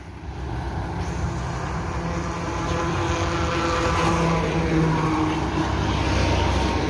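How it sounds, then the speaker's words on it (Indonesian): A Gumarang Jaya Maunjo Class bus heading for Jakarta passes with a loud, steady engine roar and broad road noise that swells slightly as it comes closer, heard alone without talk. "Kumaran Jaya terbaru, Maunjo Class. Ini bus sumber yang ke-25 menuju Jakarta bosku."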